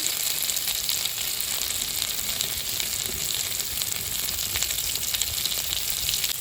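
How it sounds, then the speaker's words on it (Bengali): Potatoes sizzling steadily in hot oil, a continuous close crackle and hiss with no talking. "আলু ধরে হালকা করে ভেজে নেব"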